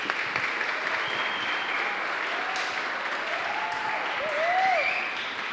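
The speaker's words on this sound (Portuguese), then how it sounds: "ao qual peço uma salva de palmas." Audience applause at a civic and cultural ceremony after a new member is called up to take a seat, steady dense clapping throughout with a voice faintly audible through it.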